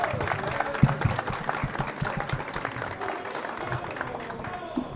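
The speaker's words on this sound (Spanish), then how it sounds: "por favor un fuerte aplauso nuevamente para Flor" An audience applauds Flor on her birthday, the clapping steady and fairly close for several seconds with a few louder claps standing out.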